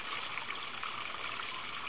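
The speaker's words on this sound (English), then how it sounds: "listening to the mesmerizing sound of water" Water trickling and splashing steadily in an ornamental garden pond, a soft continuous bright babble heard close up with no voices.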